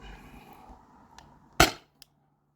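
A single sharp crack from a Salt Supply S2 salt gun firing heavy ammo through a chronograph on a warm day, close and loud. A faint click follows a moment later in an otherwise quiet setting.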